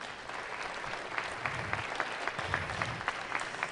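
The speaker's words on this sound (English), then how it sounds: "Give yourselves a round of applause." Faint, distant audience applause fills a school district meeting hall with steady, scattered clapping that continues without pause.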